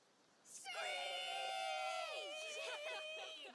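Characters in the video game A Plague Tale: Requiem screech together, letting out a loud, sustained multi-voice shriek that begins suddenly after a quiet moment and holds for roughly three seconds with wavering pitches.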